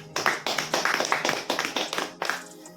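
An audience breaks into rapid, irregular applause honoring a mentor at an RCM business gathering, dense clapping lasting a few seconds with a brief lull before a final burst.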